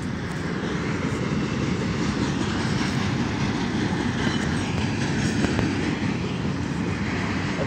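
A BNSF intermodal freight train with four engines rolls past close by, a loud, steady roar of cars and wheels with faint clickety-clack holding level throughout.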